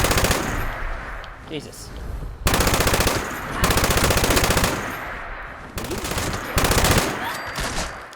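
Rapid automatic gunfire from a weapon in Fallout 76 rips out in several loud, dense bursts separated by short pauses, with a brief spoken exclamation between them.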